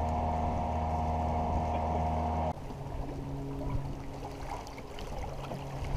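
Engine drone of a sailboat motoring past Marco Island in light winds on a Tartan, a steady hum with water rush, shifting in tone partway through, constant and fairly close with no talk.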